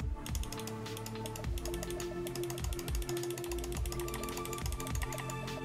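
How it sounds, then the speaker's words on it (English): Rapid, close mechanical clicking repeated continuously, small plastic computer mouse button presses in a quick, busy rhythm with no voices. "when you release the button on the My Onyx caster, it has a slight click to it"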